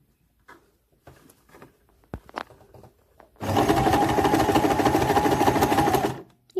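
After a few soft handling clicks, a sewing machine stitches fabric at a steady fast rattling pace for about three seconds, close and clear, then stops.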